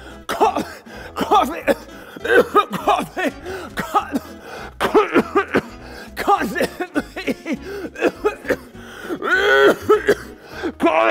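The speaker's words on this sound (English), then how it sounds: "coughing constantly." Repeated harsh coughs and throat clearing in short bursts, close up, with some gasping breaths between them.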